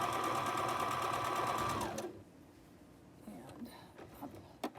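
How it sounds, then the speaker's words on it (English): A sewing machine stitching a straight line along fabric, running in a fast, steady mechanical whir for about two seconds before stopping, followed by soft handling noises and faint clicks. "you're going to just sew a regular straight line down."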